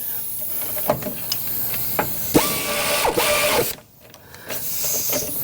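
A ratchet torquing a bolt while replacing the alternator on a Mazda SkyActiv engine, a few scattered clicks and metallic ticks over a hissy workshop background, then a brief dip in the noise, with no talking.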